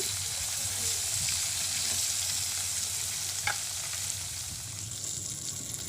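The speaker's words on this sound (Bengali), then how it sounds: "এই পাশে কিন্তু আমি একটা কালো কড়াই বসিয়ে দিয়েছি, তাতে কিন্তু মাছগুলো আমি ভেজে নিচ্ছি।" Fish pieces fry in oil in a black wok, giving a continuous close sizzle with occasional soft scrapes and a brief clink as they are stirred and turned.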